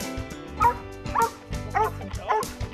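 A retired sheriff's department drug dog gives four short, evenly spaced barks or yips, fairly close and moderately loud, over a faint steady background hum.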